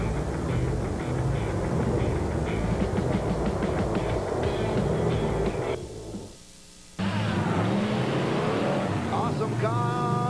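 Monster trucks racing at a 1987 USHRA event in Anaheim, one with a V-12 Allison aircraft engine and one with a big block Chevrolet, roaring loudly in a sustained rumble that briefly drops away then returns, under an announcer's voice.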